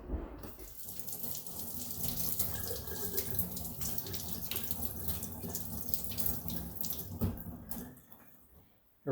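Tap water runs steadily into a sink while a chef's knife is washed, a close, continuous splashing gush that tapers off near the end.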